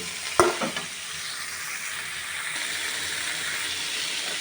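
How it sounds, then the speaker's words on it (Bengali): Cauliflower and potato pieces frying together in a pan with salt and turmeric, a steady close sizzle with a brief clatter of stirring at the start, no voices. "ফুলকপি আলু এগুলো একসাথে সুন্দর করে একটু ভেজে নেব।"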